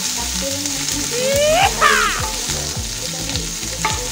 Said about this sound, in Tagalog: nagkikisa ako ngayon ng bawang, sibuyas